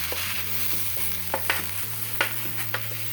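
A metal spatula scrapes back and forth across a hot griddle holding wet marinated garlic chicken, sharp scraping clicks recurring over a steady sizzle and low hum, close and moderately loud.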